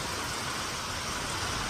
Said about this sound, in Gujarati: ભારે પવન સાથે વરસાદ ખાબક્યો